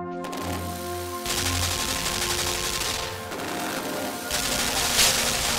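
A gun turret in Limbo fires rapid, continuous mechanical rattling bursts, close and steady for several seconds with a short pause near three seconds, over a low humming drone.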